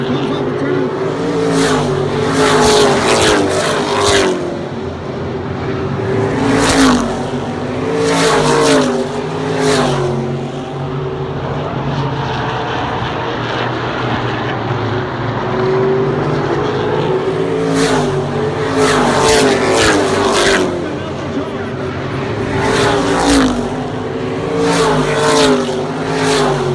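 Race cars roar around Dominion Raceway in Thornburg, engines surging loud in repeated pass-bys with rising and falling revs while an announcer talks over the track noise.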